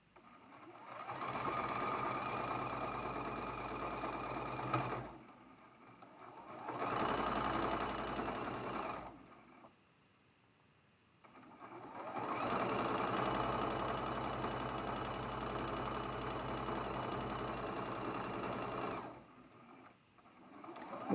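A sewing machine stitching a quilt block seam in three steady, loud bursts of rapid mechanical whirring, separated by short pauses where it stops, close by with no speech.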